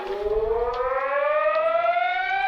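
Brazil's emergency alarm siren sounds as a steady, loud wail that slowly rises in pitch and holds near one note, alone without voices.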